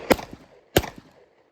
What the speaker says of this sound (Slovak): Pozor, strieľam!